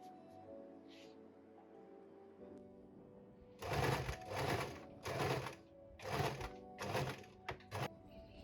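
Sewing machine stitching corset top pieces, running in several short bursts of rapid mechanical chatter with brief pauses between them, fairly close and alone after a quiet opening.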